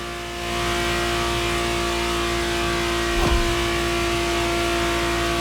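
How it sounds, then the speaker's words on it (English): A Ferrari Testarossa engine in The Crew Motorfest racing game drones loud and steady, then swells into a brief rev near the end, with no voices. "The Ferrari Testarossa was quite the celebrity in her time."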